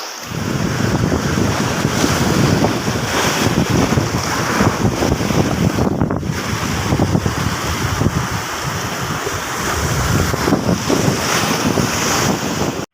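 Dangerous waves breaking at Mubarak Village Beach in Karachi, a rocky shore, with a loud continuous roar of surf and heavy wind buffeting the microphone, and no talking.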